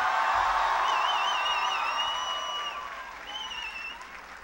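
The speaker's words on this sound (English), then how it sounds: "That applause was for the Raptors." Graduating students and guests at a school graduation ceremony clap in sustained applause, loud at first and gradually fading, with some scattered cheers and whistles.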